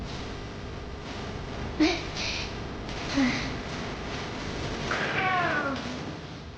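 A cat meows in the Tales of Arise video game, with a short cry near the two-second mark, another near three seconds, and a longer rising, wavering call around five seconds, all over a steady ambient game background.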